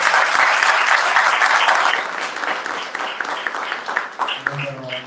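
Audience at a Dasara celebration applauding: a dense, loud wash of many hands clapping that gradually fades and thins, with a few voices rising near the end.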